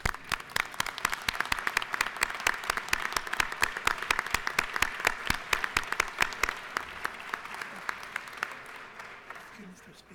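Applause fills the Georgia House chamber, with many distinct sharp claps in a quick, irregular rhythm that slowly thin out and fade toward the end.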